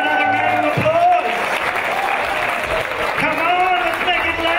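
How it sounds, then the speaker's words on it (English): An audience in a church hall applauds with steady clapping and some cheering, the applause sustained across the whole moment with a voice heard over it. "Why don't you give him another round of applause?"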